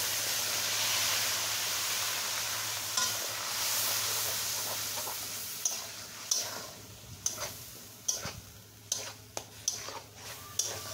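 Onion, garlic and green chilli paste sizzles steadily in a hot pan, then a utensil scrapes and taps in a run of sharp stirring clicks.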